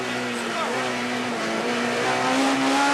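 A Citroën Saxo rally car on a special stage of the 1997 Rallye du Var at La Mole, France, its engine screaming at high revs with sustained rising and falling tones, loud and close, with a faint voice underneath.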